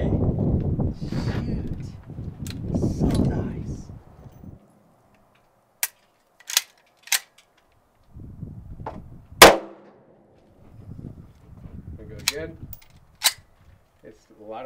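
.357 Desert Eagle pistol with a ported barrel fired outdoors: about half a dozen sharp, loud shots spaced irregularly, with people talking before and between them.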